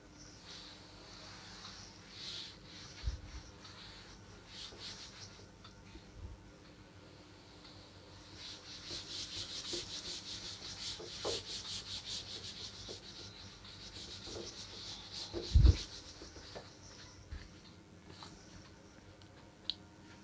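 Writing being wiped off a classroom board, a soft continuous rubbing and scrubbing that rises and falls in strokes, with scattered light knocks and one sharper tap near the end.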